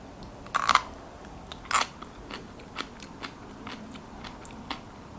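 Two sharp crunchy bites of pickled Vietnamese eggplant near the mic, followed by several fainter crisp chewing crackles spaced out over a few seconds.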